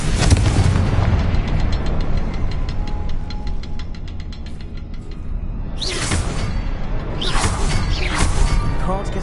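A Confringo blasting curse going off in Hogwarts Legacy: loud, sustained booming blast with rumbling roar, followed by a couple of whooshing bursts.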